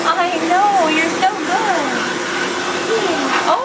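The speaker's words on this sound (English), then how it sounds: "The dryer is always scary." A hair dryer blows steadily and close throughout while a dog is dried after a bath, with a person speaking soothingly over the constant airy roar.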